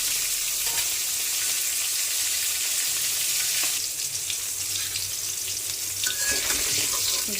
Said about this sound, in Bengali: মাছ ভাজি হয়ে গেছে, এখন নামিয়ে নিলাম।